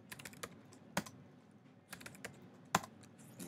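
Scattered keystrokes on a computer keyboard while entering Minecraft Education Edition agent commands, a quick irregular run of light clicks with a few sharper taps, fairly close and alone with no talk.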